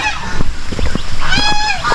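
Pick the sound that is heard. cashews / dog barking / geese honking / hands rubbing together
geese honking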